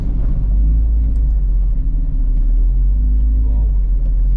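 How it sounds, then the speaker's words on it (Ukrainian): Vehicle exhaust, apparently submerged in water, gives a steady, loud, deep rumble that fills the whole stretch without a break, close by on a Carpathian trail near a stream. "Це вихлопна, напевно, під водою."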